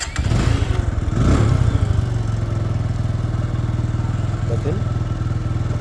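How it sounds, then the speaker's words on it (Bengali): A TVS Apache RTR 160 cc motorcycle idles close by with a steady low, even engine throb that runs the whole time, and a brief louder rev or clatter comes early on. "TVS Apache RTR 160 CC."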